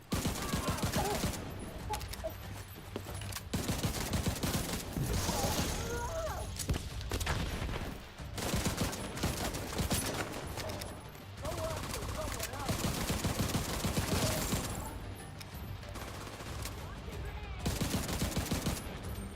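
Heavy gunfire from The Division 2 video game, with sustained machine-gun bursts and overlapping shots forming a dense, loud barrage throughout, briefly dipping near the middle, with a voice talking over parts of it.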